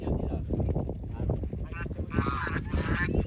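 Geese honk loudly and repeatedly at a small duck farm in a haor rice-growing area, a busy overlapping chorus of calls close by, with people talking over and between the honks.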